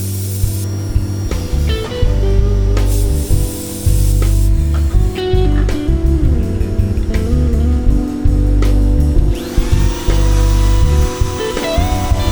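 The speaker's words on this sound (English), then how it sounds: "the first thing we're going to do is mill a channel for the truss rod" A maple guitar neck has a truss rod channel milled into it, producing a loud, continuous high whine and harsh hissing cut, steady with small shifts in pitch as the cutter bites, no talk.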